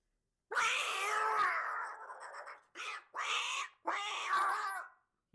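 A mimicry artist imitates a tomcat and cat fighting, voicing long drawn-out yowls and snarling caterwauls in several separate bursts, loud and close in a quiet room.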